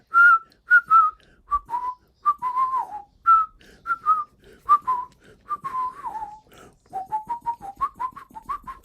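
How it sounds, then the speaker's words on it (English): Person whistling a Shostakovich ballet suite tune: a clear, solo melodic whistle in short lilting phrases with small pitch slides, close and unaccompanied. "I find myself whistling it all the time."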